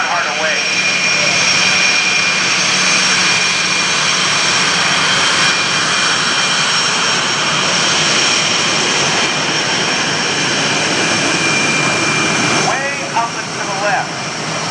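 A Yak-9 warbird's engine roars loud and sustained as it dives at an airshow, with a public-address voice speaking over the steady drone throughout.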